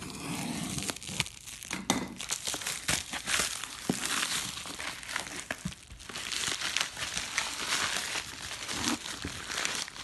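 Plastic case holding a car ECU being cut open, a steady run of close crinkling, crunching and tearing plastic noises with sharp snaps scattered throughout, no talking.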